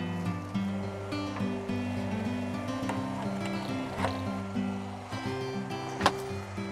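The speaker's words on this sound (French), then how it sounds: "Quand tu arrives là, le moteur il est complètement à fond." Boat engine running flat out at full throttle off Tahiti on a fishing outing; a constant droning hum with water wash and occasional knocks and splashes stays close and steady throughout, with no talking.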